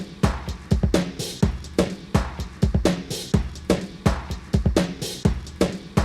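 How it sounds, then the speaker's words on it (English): A drum break groove runs through the BLEASS Slow Machine drum scratcher preset, producing a loud, punchy beat of dense kicks and snares with warped, stuttering hits in a tight repeating rhythm, no voices. "If we drop the drum scratcher preset from Slow Machine on it, it sounds like this."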